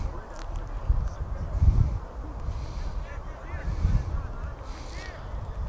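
Faint, distant Canada goose honks drift overhead at a rugby match through steady wind rumble, a few scattered calls rising over the blustery outdoor noise.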